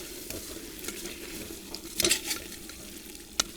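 Plov being stirred in a pot with sea salt added, a steady low frying sizzle under scattered scraping clicks of a spoon against the pot, a few sharper knocks standing out.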